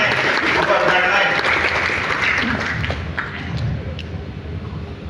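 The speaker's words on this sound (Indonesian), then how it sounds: "Tepuk tangan dulu Bapak dari Polres." Audience at a police community security gathering with a regional police chief applauds, a loud sustained wash of clapping with murmuring voices underneath, gradually easing over five seconds.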